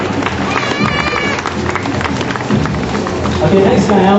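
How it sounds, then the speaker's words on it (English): A crowd claps and cheers for a trials bike rider at a demo show, a dense, steady wash of applause filling the short stretch from start to finish. "give him a round of applause for that"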